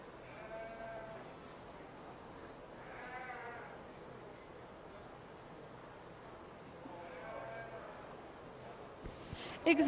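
Sheep at a sheep show, with a few wavering bleats rising at intervals over a low, steady background murmur, fairly faint and at a moderate distance, and a brief knock near the end.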